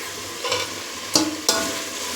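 Ginger garlic paste frying with tomatoes in a pan for tomato rice makes a steady sizzle, cut by two or three sharp spatula scrapes against the pan, close up and with no voices.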